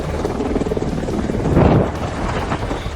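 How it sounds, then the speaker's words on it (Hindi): Three Apache helicopters landing at an Indian air base in Ghaziabad, a loud continuous rotor roar and engine rumble that swells toward the middle, with no voices. "3 अपाचे हेलीकॉप्टर गाजियाबाद के इंडियन एयरबेस पर गरजते हुए उतरे"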